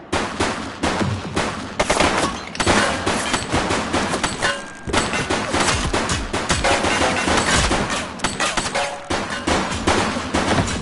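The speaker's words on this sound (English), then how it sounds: "Shots fired!" Heavy gunfire in a police shootout with thugs, sustained rapid automatic bursts and overlapping shots filling the whole stretch, loud and close with no pauses.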